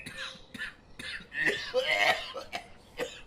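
A man coughs several times in short, separate bursts, ending with a rougher, heavier cough that is close and fairly loud. A faint throat-clearing sound comes between the coughs.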